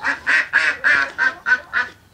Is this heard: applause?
no